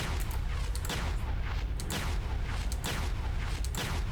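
In From the Depths, a plasma cannon turret fires repeatedly in sharp, booming bursts spaced under a second apart, layered over a continuous rumbling din of battle that stays loud throughout.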